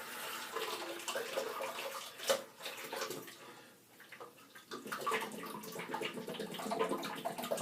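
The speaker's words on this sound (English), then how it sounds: "Now I'm just going to rinse the scuttle so I can show it to you" Running water splashes and swirls as a shaving scuttle is rinsed, a continuous close gurgling flow that briefly drops off and then resumes.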